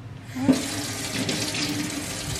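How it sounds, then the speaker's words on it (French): Tap water runs steadily into a kitchen sink while a finger is rinsed, a continuous close hiss and splash lasting a couple of seconds with a small knock at the start, no talking. "Je vais me rincer le doigt."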